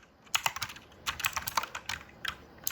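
Someone types on a computer keyboard with quick, irregular bursts of crisp clicks close by, separated by short pauses.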